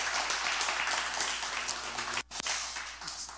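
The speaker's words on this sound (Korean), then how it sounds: "박수 한번 쳐줘요." A church congregation at a revival service claps for a member, a dense, loud burst of applause with a brief gap partway through.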